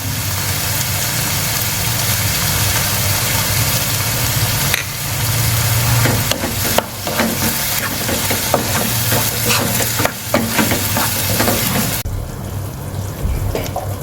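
Tomatoes and masala cook down in a pan, with a continuous loud frying hiss and low rumble, broken midway by several sharp clatters and stirring knocks, then a brief drop in the hiss near the end.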